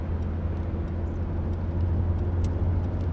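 Steady low engine and road rumble inside a moving car, continuous and even, with no talk.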